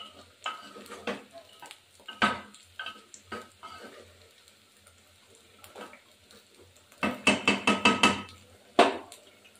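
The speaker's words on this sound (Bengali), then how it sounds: "মাংসটা একটু কষাবো" Chicken seasoned with Kashmiri chili powder is stirred and sautéed in a pressure cooker pot, with repeated metallic clanks and scrapes of a spoon against the pot in irregular bursts, close and fairly quiet, with no talk.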